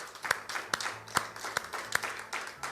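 A church congregation gives rhythmic, moderately faint applause, with a few sharp individual claps standing out at a steady beat over a soft wash of hands.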